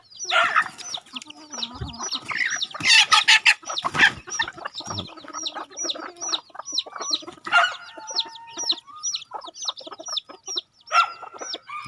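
Decoy roosters used to lure wild jungle fowl cluck and crow in a rapid, busy string of calls, some loud and close, some fainter, with no talk over them.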